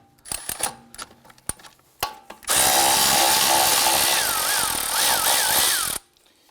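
A few clicks of tool handling give way to a loud, continuous whir of a power tool spinning a 10mm socket to remove a nut on a 2004-2008 Acura TL front suspension knuckle, then it stops abruptly.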